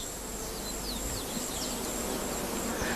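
Oil-collecting bees hum around Malpighiaceae flowers, a steady faint buzz with occasional nearer passes over soft background noise.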